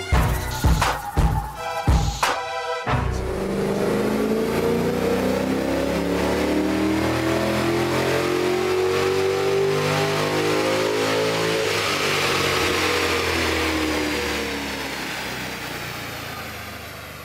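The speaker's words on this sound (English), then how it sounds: "we've just run Robbie's car up on 98 octane fuel just to get a base figure" A naturally aspirated car on a dyno runs on 98 octane fuel. Several sharp blips open the run, then one long loud rev climbs steadily and sustains before easing back down.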